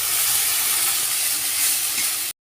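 A spice paste of cumin, ginger and dried chillies with onion paste frying in a pan, a loud, even sizzle held close, then cut off abruptly.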